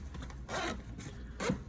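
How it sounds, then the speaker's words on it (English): Two quick zipper pulls on an Alpha One Niner x Carryology Evade 1.5 bag, close and smooth, each a short rasping slide about a second apart. "those zippers are just like buttery smooth"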